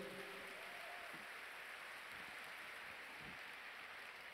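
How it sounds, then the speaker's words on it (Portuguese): Congregation applauding during a Portuguese-language church service, a dense, even wash of clapping held at a steady, fairly soft level like rain, with no distinct individual claps. "Pode aplaudir ao Senhor."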